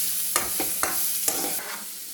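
Garlic and onions fry in hot oil for a chicken curry, giving a steady close sizzle broken by three or four quick scraping stirs of the pan.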